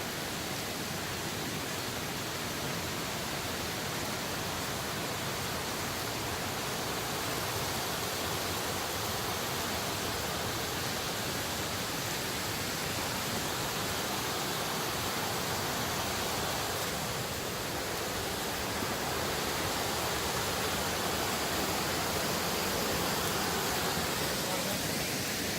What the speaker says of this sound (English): pond in the river with a cascading down to the waterfall.